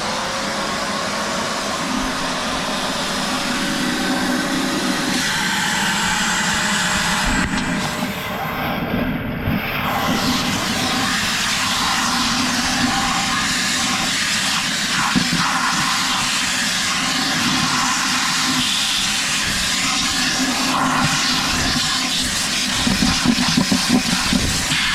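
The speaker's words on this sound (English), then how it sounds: "I'm going to show you how good the pump is on it when it's pumping the water out" A wet and dry vacuum runs continuously at close range while its pump drains water from a bucket, giving a loud, steady motor roar with a rushing, gurgling texture.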